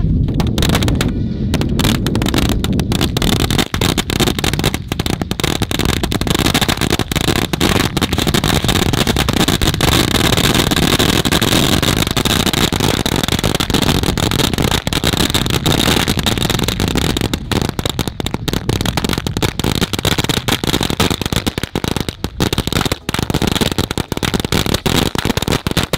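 Sivakasi firecrackers from two full boxes burst continuously outdoors, a dense, loud, unbroken crackling barrage with rapid sharp pops that runs for the whole stretch without a pause.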